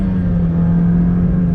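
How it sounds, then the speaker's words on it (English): A 1999 Mazda Miata NB engine holding a steady, loud mid-pitched drone from inside the car, a brief sustained pull with no voices. "it's just a blast to rev through the gears"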